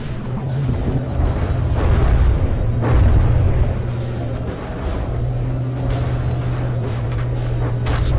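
Torpedoes exploding in a vehicle combat game, heavy booming blasts rolling over a constant low engine rumble, loud and dense with several hits crowding together.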